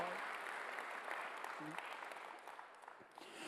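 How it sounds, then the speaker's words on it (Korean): Congregation applause during a Sunday church service, many hands clapping in a continuous wash that gradually softens toward the end, with faint voices underneath. "빨리 박수로 한번 드리세요"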